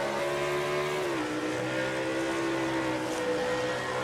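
A racing truck in a video game races around Watkins Glen, heard from onboard. The engine drones loudly and continuously, dipping in pitch once at a shift and then holding steady, with no voices.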